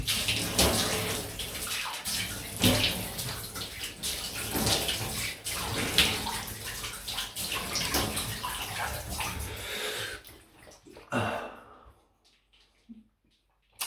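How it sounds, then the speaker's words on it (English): Water from a tap runs loudly and steadily for a rinse after a shave with a Karve Christopher Bradley safety razor, then cuts off abruptly, leaving near silence with a few faint drips and splashes. "Quick rinse"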